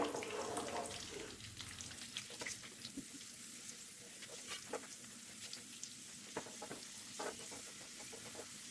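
Cashews and raisins frying in ghee make a soft, continuous crackling sizzle with light scattered pops and faint stirring, fairly quiet and with no voices.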